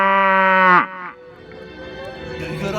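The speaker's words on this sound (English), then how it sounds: "what we'll always have is cows" Cattle low with a long, loud, steady moo that drops off abruptly, followed by quieter outdoor background noise on the English coast at Folkestone.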